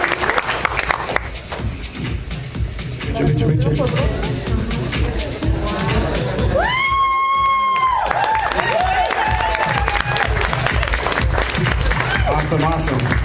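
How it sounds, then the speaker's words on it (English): Loud audience applause and cheering at a sales training event, sustained clapping mixed with crowd babble and voices, with a brief tonal whistle-like sound in the middle. "Round of applause to all of our silvers and above."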